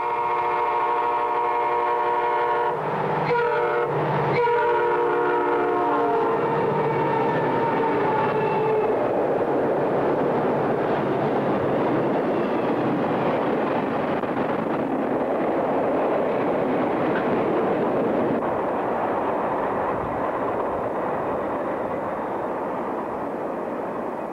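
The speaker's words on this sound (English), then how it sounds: "GP 50, 7062 and 7072 with GP 40X 7003 run a southbound east of Kent." Norfolk Southern GP50 diesel locomotives 7062 and 7072 with GP40X 7003 lead a southbound train east of Kent, Florida, sounding loud multi-note horn blasts before a sustained close engine roar and rolling rumble.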